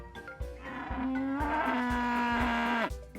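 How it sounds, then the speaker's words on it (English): A large angry cow in the farming game Peachleaf Valley lets out a long, loud, strained moo that rises and holds over a rhythmic thumping beat, with no talk over it. "I turn around at the sound of a loud cry when I catch the sight of a rampaging cow heading straight towards me"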